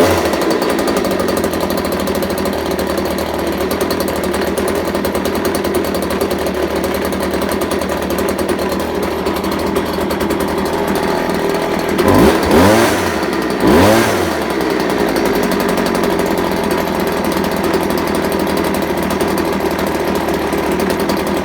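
A Stihl BG86 leaf blower's two-stroke engine runs after a carburetor repair, idling with a loud, steady buzzing drone, rising in two brief revs partway through before settling back to idle.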